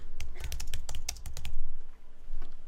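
Quick typing on a computer keyboard, a close, dense run of crisp key clicks with brief pauses, then a few more taps near the end.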